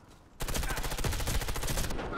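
Automatic gunfire in the shooter game Warface rips out in one dense, continuous burst lasting about a second and a half after a brief quiet start, loud and close.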